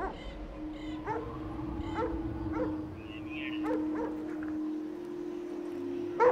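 A dog barks and yips in several short, close bursts over a steady tonal hum, with a whining, howl-like note in the middle and a sudden thump at the end.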